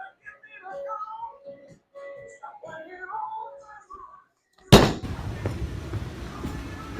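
A 900 Global Ember bowling ball is released onto the lane, landing with a loud thud and then rolling with a continuous rumbling noise, after someone talks.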